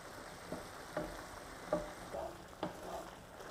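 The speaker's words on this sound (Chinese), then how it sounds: "再轻轻搅拌。" Beaten egg is gently stirred in a pan while making scrambled eggs with shrimp balls, giving a soft steady sizzle with a few light scraping strokes spaced about a second apart, faint and close.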